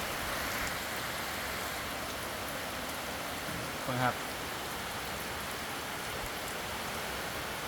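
Steady broadband hiss of rain falling on a surface, continuous throughout, with a voice speaking briefly partway through.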